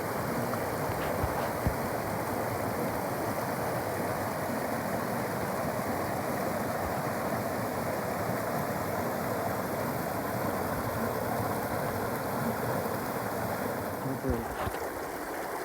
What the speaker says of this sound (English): More beautiful waterfalls.